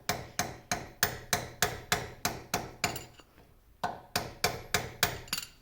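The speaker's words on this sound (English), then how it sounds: "that hammer is unnecessarily large and a little bit tiring to hold" A large hammer knocks on the gears of a 1950 LeBlond Regal 17-inch lathe headstock, striking in a steady rhythm of sharp metallic blows. After a short pause the strikes resume, close and distinct.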